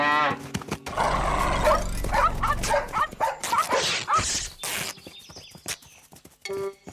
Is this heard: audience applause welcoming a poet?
no